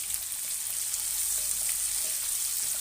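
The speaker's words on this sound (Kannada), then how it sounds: "ನೋಡಿ ಈ ಟೈಮಲ್ಲಿ ನಾನು ಈರುಳ್ಳಿ ಸೇರಿಸ್ತೀನಿ" Chopped onion frying in a pan for a dhaba-style fenugreek (methi) gravy, giving a steady, close sizzling hiss that stays even throughout with no talk.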